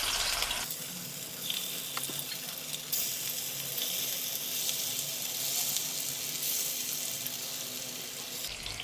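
Lentil fritters (bora) frying in hot oil with chopped chillies, a steady broadband sizzle that holds close and fairly loud throughout, with a brief quieter moment at the start.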